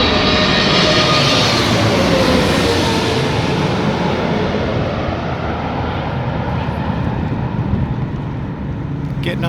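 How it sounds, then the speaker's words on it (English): A passenger airplane's engines give a steady, loud broadband roar while passengers board, fading slightly toward the end. "Getting on a plane,"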